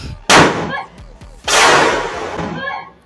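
Two sharp firecracker bursts go off close by, the first around a third of a second in and the second about a second later, each a loud crack trailing into a long noisy decay.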